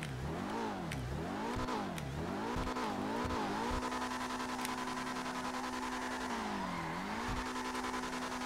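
An Emperor ETR1 sports car in GTA Online revs hard through the gears with repeated rising and falling engine sweeps, tire squeals and skidding, loud and close with no talking.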